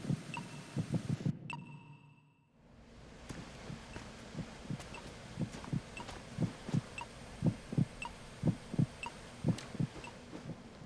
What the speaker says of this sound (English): Yeah, he got that beepy heartbeat.